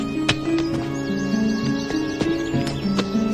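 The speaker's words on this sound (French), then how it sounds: "Karine, tu veux bien aller t'occuper des chevaux?" Horses at a farm give short neighing calls over a steady low hum, with sharp hoof knocks and clatters recurring close by throughout.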